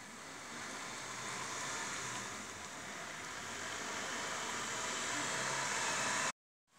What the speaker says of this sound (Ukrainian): Дощ йде. Такий рівненький дощ.